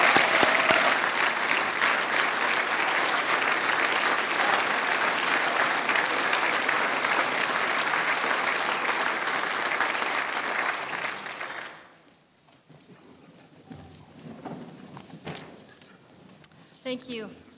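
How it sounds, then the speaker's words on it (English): Sustained applause from an audience at a Government House ceremony honouring Order of British Columbia inductees, steady and full for about twelve seconds before fading into quiet room noise with a few scattered sounds. "Can we give them one more round of applause?"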